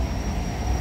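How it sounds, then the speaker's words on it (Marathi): A Pune underground metro train pulls out of the Swargate station, a steady low rumble with a faint high whine, close and continuous. "ही निघाली मेट्रो"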